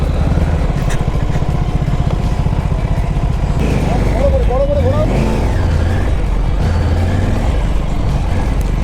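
A Triumph Tiger 900 Rally Pro motorcycle engine drones loudly and steadily at an event in India, with a brief rising whine midway and revs under ongoing background noise.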